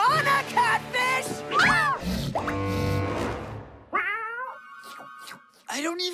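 A cartoon piranha catfish meows like a cat in repeated rising and falling cries, loud and close, mixed with animated cartoon voices and music.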